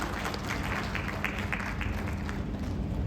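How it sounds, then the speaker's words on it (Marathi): Audience applause at a Bigg Boss Marathi season 6 press conference, a dense, continuous wash of clapping over a heavy low rumble of room noise, without clear voices on top. "जोरदार टाळ्या होऊन जाऊ प्लीज"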